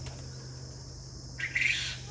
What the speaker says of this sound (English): well, you can hear the quail behind me,